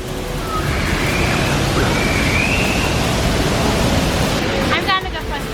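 Steady, dense rushing roar of a waterfall in the Bali jungle, close and loud throughout, with faint voices and a brief whistle-like chirp near the end.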